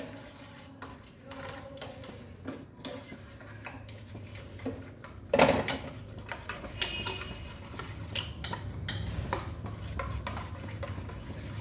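A fork beats egg and milk together in a bowl, making soft, quick rhythmic clicks and swishes with one louder clatter partway through, close and fairly quiet with no voices.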